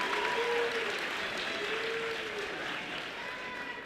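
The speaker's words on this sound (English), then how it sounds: "Go ahead, give them a round of applause." Applause for the Hogan Prep class of 2017 at a high school graduation ceremony, a steady crowd clapping that fills the space for a few seconds and slowly eases off.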